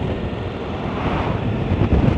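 Strong wind buffets the microphone with a loud, continuous roaring rumble that swells slightly toward the end, no voices present.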